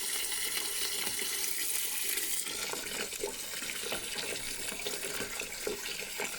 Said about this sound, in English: I'll plug this into here and run it directly into the sink